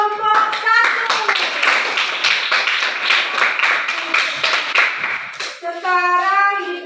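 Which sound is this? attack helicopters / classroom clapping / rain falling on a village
classroom clapping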